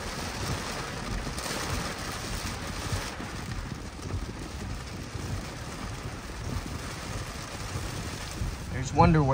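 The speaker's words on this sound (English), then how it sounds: "But it's a real rainy day today." Steady rain falls on a wet day in Panama City Beach, Florida, a continuous close hiss of drops on surfaces with faint traffic-like rumble underneath, running unbroken throughout.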